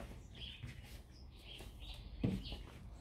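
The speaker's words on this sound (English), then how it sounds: "You can hear the birds outside chirping." Birds chirp faintly outside, a few thin, high tweets scattered over a quiet room with soft handling noises and one brief thump.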